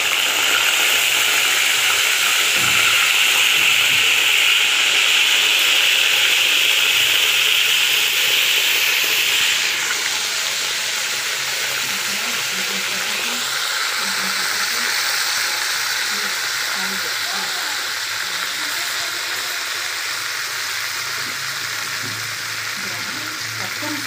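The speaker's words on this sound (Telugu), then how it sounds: "ఇప్పుడు వంకాయలు వేసి ఫ్రై చేయాలి" Eggplants frying in hot oil in a pan, a steady loud sizzle and hiss running throughout, easing slightly partway through, with occasional stirring scrapes and no talking.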